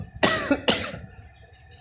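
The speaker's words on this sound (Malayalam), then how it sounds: "എനിക്ക് ചെറിയ ചുമയൊക്കെ ഉണ്ട്" Two quick, sharp coughs close to the microphone, followed by quiet.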